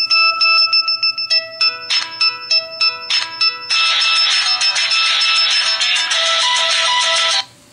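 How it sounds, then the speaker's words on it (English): A ringtone plays loudly on an Android phone, a bright electronic melody of clipped, rhythmic tones that swells into a sustained dense shimmering passage before cutting off abruptly. "Now, that was a very long ringtone."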